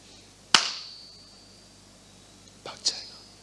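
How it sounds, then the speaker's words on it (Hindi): Hands clap once loudly and sharply nearby, the crack ringing out in a room, followed a couple of seconds later by two quicker, softer claps. "भैया मैं ताली बजाता हूं"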